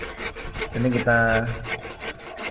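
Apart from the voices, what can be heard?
cutting a wooden pole for a gazebo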